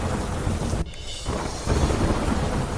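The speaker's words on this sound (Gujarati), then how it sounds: "ઝારખંડના રામગઢમાં કાળા ડિબાંગ વાદળો વચ્ચે શરૂ થયો વરસાદ" Steady rain falls with thunder rumbling under dark clouds in Ramgarh, Jharkhand; a broad, continuous wash of rainfall with deep rolling thunder, briefly cut off partway through before resuming.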